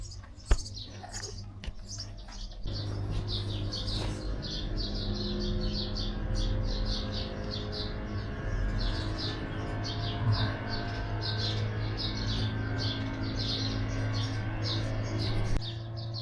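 Birds in Egypt chirp in rapid, continuous high twitters over a steady low hum, the busy chatter carrying on without pause at moderate volume.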